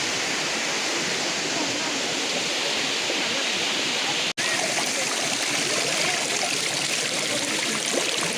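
Water rushes down Thatiguda waterfall in a steady, dense roar heard up close, continuous and loud throughout, with a brief cut partway.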